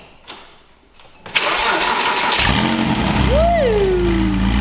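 A car with a new, louder aftermarket exhaust cranks briefly, then fires up with a sudden loud roar that settles into a deep, rumbling idle, with a rising and falling whine layered on top. The sound is close and loud.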